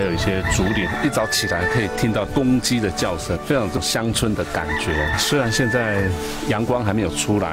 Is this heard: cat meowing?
no